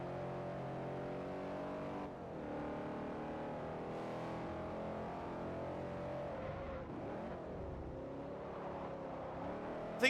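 A deep V8 classic muscle car engine in the video game Forza Motorsport 4 rumbles steadily at high revs, its pitch shifting as it accelerates and eases off, loud and continuous with no talking.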